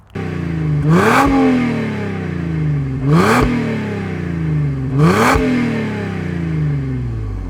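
A Mercedes CLK 350 AMG Evolution engine revs hard three times in even succession, each burst rising sharply then falling back to a deep, rumbling idle through the loud factory AMG exhaust.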